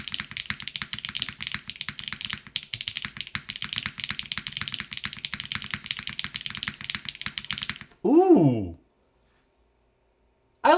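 Fast typing on a Suisei mechanical keyboard fitted with GMK Firefly keycaps, used without a desk pad, a dense, beefy run of clacking keystrokes close up, then a short spoken remark and silence.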